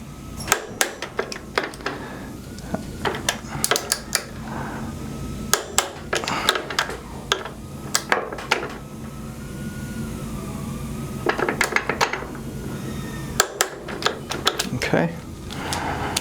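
A wrench torques hub bolts on an aircraft in a service hangar, giving sharp metallic clicks and clacks in irregular clusters against a low background hum, with a voice talking between them.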